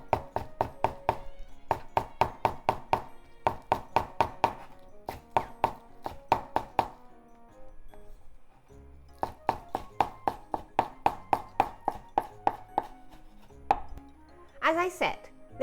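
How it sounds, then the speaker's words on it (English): Green onion is sliced thin with a knife in rapid, even runs of close chopping taps on a board, paused briefly a few times, with a short clatter near the end. "And let's just make thin slices."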